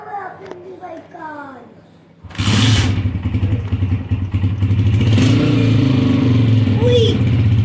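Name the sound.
motorcycle engine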